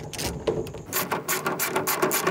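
A socket wrench ratchets a clamp nut tight while installing a Gator ETX roll up bed cover on a truck, giving quick, loud, close, rhythmic clicking strokes.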